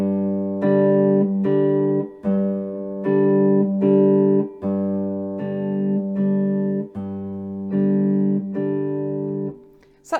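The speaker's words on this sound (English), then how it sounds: "you can actually use your 1st and 2nd fingers to pluck the 2 top strings" Three-string guitar has its two top strings plucked with the first and second fingers, giving a close, even, repeating pattern of bright plucked chords with no voices.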